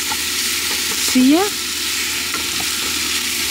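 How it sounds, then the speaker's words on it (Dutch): Food sizzling and frying in a pan at a campsite in Winterswijk, a steady broadband hiss under a brief spoken remark. "Nou, kijk mensen, ik ben nu aan het bakken."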